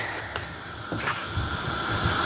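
A deck of cards is given a poker-style riffle shuffle during a tarot-style reading, producing a soft, close, hissing flutter in a few brief bursts.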